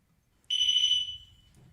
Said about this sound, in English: So the big beeping is the proximity sensors.